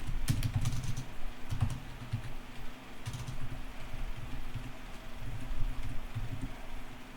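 Steady typing on a computer keyboard while writing program code, continuous quick irregular key clicks close to the microphone over a low background hum, with no talking.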